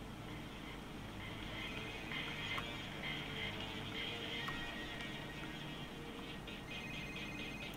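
A phone rings steadily in Payday 2, running on a Switch emulator on a Mi 10 phone, sustained and moderately loud over a constant hum of in-game background noise, with no talking.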